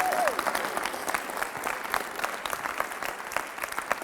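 Moderately quiet applause from a high school audience at an assembly, scattered clapping with uneven peaks, heard at some distance.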